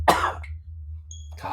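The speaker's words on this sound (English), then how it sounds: "this cough is just brutal" A person with bronchitis gives a harsh, chesty cough, one strong burst at the start followed by quiet, then a second rougher throat-clearing cough near the end, close to the microphone.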